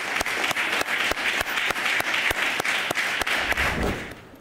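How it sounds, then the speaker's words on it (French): Members of France's National Assembly applaud in the chamber to honour a young man who saved three people from drowning, with sustained, even clapping that holds steady for several seconds and then begins to fade. "Je vous demande, chers collègues, de l'applaudir chaleureusement"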